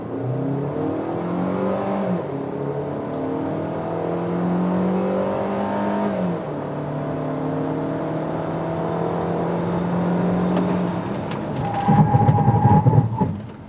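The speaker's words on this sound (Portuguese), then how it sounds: "Vamos lá para o teste de 0 a 100 aqui com o Hyundai Creta, já na posição Sport" A Hyundai Creta 2.0 in Sport mode accelerating hard from a standstill to 100 km/h, engine note rising through gears with clear shift drops, steady cabin drone, then a louder burst near the end.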